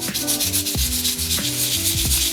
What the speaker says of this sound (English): So I'm going to sand it off so it's smooth.